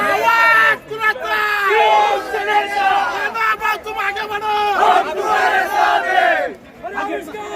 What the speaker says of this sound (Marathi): एकच जल्लोष